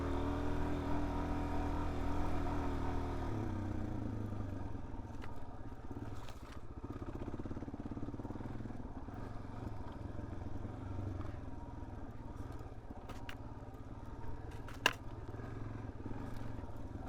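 A Suzuki DRZ 400S dirt bike with stock gearing rides a loose-dirt trail, its engine a steady, continuous low drone throughout, with a few faint clicks and knocks on top.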